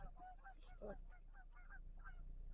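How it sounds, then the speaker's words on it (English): Geese honk repeatedly at a distance at Shiawassee National Wildlife Refuge near Saginaw, Michigan, a scattered chorus of calls over steady background noise. "I'm sure you can hear them. There's some geese."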